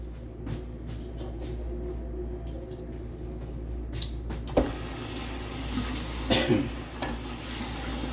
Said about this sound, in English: So I'm just letting this simmer now.